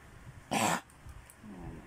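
A single short, harsh cough from a sick Shih Tzu, close by, followed by faint low background noise.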